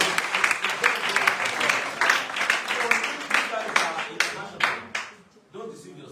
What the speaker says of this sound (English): Let's give a round of applause now.